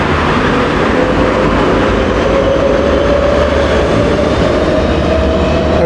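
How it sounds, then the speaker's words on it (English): A tram passes along a city street in Nuremberg as a loud, steady rolling rumble with a continuous rail hum, close by and without pause. "Got some cars and trams here, so this seems to be on a main tram route as well."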